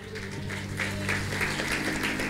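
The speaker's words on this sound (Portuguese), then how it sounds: "Aplauda ao Senhor" A church congregation applauding together during a worship service, a steady wash of many hands clapping at moderate distance, continuous and even throughout with a low hum underneath.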